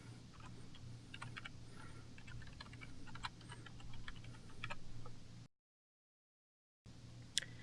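Quick bursts of clicky typing on a computer keyboard, close and fairly soft, entering a serial number, then a brief silence and a final keystroke, no talking.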